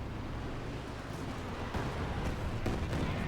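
Battlefield explosions and artillery blasts from the Company of Heroes 2 real-time strategy game, low rumbling booms and bursts overlapping in a dense, fairly quiet mix for a few seconds.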